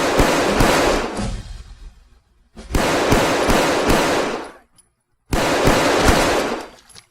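Rapid gunfire from a modded S&W M&P 45 pistol in Fallout 4, three dense bursts of sharp shots each lasting about two seconds, separated by brief silences, loud and close.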